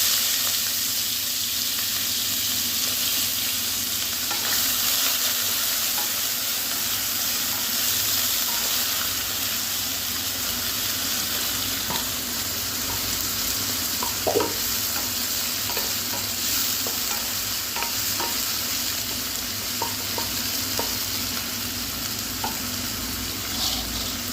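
Onions and garlic frying in oil for snail curry, giving a loud continuous close sizzle with scattered small pops and occasional stirring scrapes throughout.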